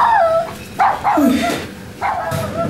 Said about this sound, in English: Why is the dog howling so much?